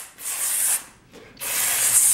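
A voice imitates the hiss of a spray paint can in two sustained, airy bursts separated by a short pause.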